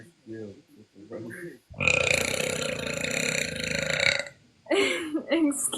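A woman with acid reflux lets out one long, loud, drawn-out burp after brief talk, followed by a shorter burp, with speech between them.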